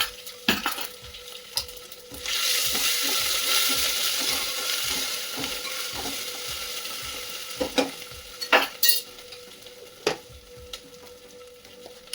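Fenugreek seeds and ginger-chili paste hit hot oil in a kadhi pot with a sudden loud sizzle that slowly fades, surrounded by sharp clinks and scrapes of a spoon against the pan.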